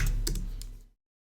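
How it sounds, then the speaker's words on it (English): A few quick, light keystrokes on a computer keyboard, close and fairly quiet, ending abruptly in silence. "If we type in health,"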